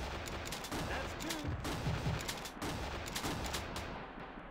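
Rapid gunshots ring out from the Big Buck Hunter: Call of the Wild arcade hunting game, a dense run of sharp cracks over a steady noisy backdrop, loud and continuous for several seconds.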